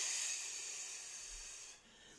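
A soft, breathy exhale through the mouth, as if blowing out candles, comes as a steady airy hiss that fades out after about two seconds.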